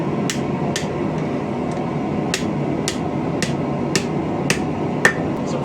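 A hammer strikes steel at a blacksmith's forge to straighten a hooked bar, giving about nine sharp, ringing blows at a steady, unhurried rhythm, close and loud with no talking.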